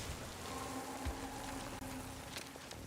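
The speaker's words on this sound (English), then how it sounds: "You can see rain dripping off the side of the walls, dude." Steady rain patter with scattered drips in a DmC: Devil May Cry game scene, a dense, even hiss of falling water heard alone at a fairly low level.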